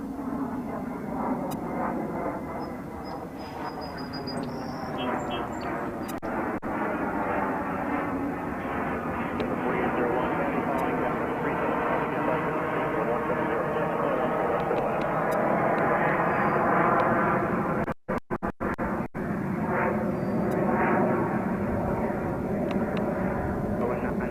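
Jet airliners at JFK airport make a loud, continuous engine roar, a steady rising and falling whine across the whole stretch, with faint radio chatter mixed in underneath.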